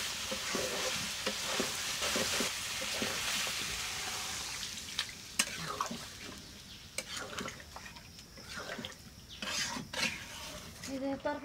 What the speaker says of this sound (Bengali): দেখেন কি সুন্দর করে ভাজা ভাজা করে কষাই দিবেন।